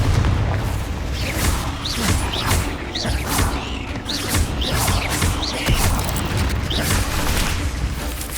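Fiery Confringo blast spells exploding during a Hogwarts Legacy fight against spiders, a dense run of booming bursts and crackling impacts layered over constant loud game combat noise.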